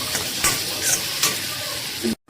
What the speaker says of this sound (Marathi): तुपाची फोडणी तडका द्यायचा